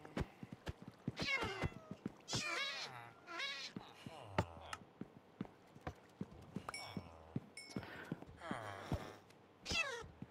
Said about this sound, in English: Oh, look at all these stupid cats.